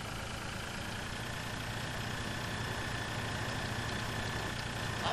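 A little red tractor engine in Farming Simulator 2013, a quiet steady low idle-like rumble that hums continuously throughout at an even level.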